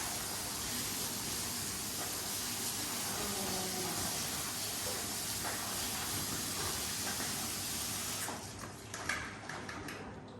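Food is rinsed under running water in a kitchen sink, a steady loud hiss of water that breaks into lighter splashing and clatter near the end.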